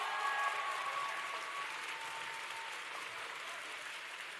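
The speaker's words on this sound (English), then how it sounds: "And a big round of applause to all of our winners" Award winners at a closing ceremony receive sustained applause from an audience, a dense, even clapping that holds steady at moderate distance, with a faint tone running underneath early on.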